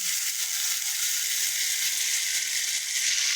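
Masala sizzles and fries steadily in a pan for a spinach and egg curry, a dense continuous hiss with faint stirring scrapes, loud and close with no talking.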